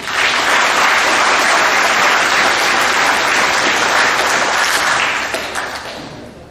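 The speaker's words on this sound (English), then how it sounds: "round of applause for the cross country" Sustained applause from an audience at a middle school awards assembly, honoring the cross country team; loud, dense clapping that holds steady and then fades out near the end.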